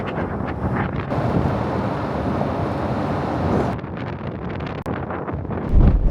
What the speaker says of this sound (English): They're not joking about the wind!